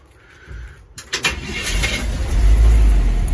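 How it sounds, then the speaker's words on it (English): A 1949 Chevy 3100 V8 truck cold-starts close by: a brief crank, then the engine catches and settles into a loud, deep, steady idle. "That's a cold start basically there"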